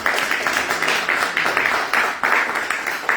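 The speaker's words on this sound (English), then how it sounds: "I think we can give him a round of applause." A seated audience at a Sunday spiritual talk claps in continuous, moderately loud applause with a steady pulsing texture throughout, no voices standing out.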